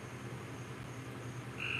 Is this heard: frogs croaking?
yes